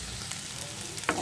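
Bitter gourd frying with shrimp in a pan, a steady close sizzle with faint stirring scrapes and a brief louder clatter near the end, no voices.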